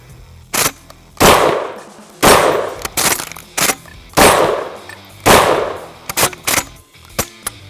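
A DP-12 double-barrel pump-action shotgun fires 12 gauge rounds in a series of loud, close blasts, irregularly spaced and some in quick pairs, with clanking pump action between shots.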